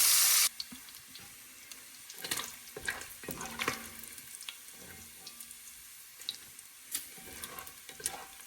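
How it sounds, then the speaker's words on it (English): Food frying and browning in bacon fat in a pan, with scattered crackles and pops over a low sizzle and a few clinks and stirring sounds, close up with no talk. "we'll put this in to cook and brown in that bacon fat. Ooh, it's kind of popping."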